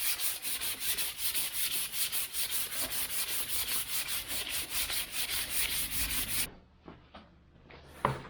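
Close hand sanding of Austin Healey car paint with 240 grit sandpaper, a rapid regular back-and-forth rasping of about a dozen strokes, then the rubbing stops and a few faint knocks and handling sounds follow.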